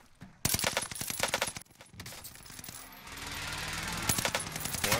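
Rapid gunfire in the video game Warzone on Rebirth Island, likely a Sten SMG: dense bursts of close, sharp shots and rattling fusillades, with a pause and then more firing mixed with game sounds.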